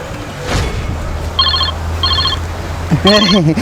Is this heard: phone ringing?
yes